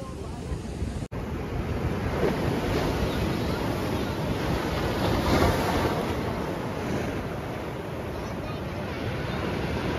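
Sea waves wash ashore at Shankarpur beach near Digha, a constant loud roar of surf mixed with wind buffeting the microphone, with a brief dropout near the start.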